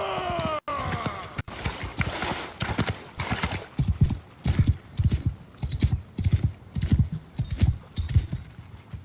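Rhythmic horse hooves in Mount & Blade II: Bannerlord clip-clop steadily and close by, a trotting beat that picks up after a few seconds, with a brief whinny-like tone at the start.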